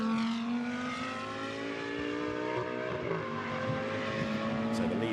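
Porsche and Lamborghini GT2 race cars lapping the Misano circuit, engines sustained and loud with steady tonal drones and shifting pitch as the cars hold close together, with a faint commentary voice in the background.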